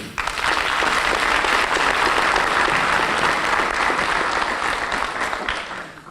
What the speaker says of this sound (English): Please join me in a round of applause for all of our supporters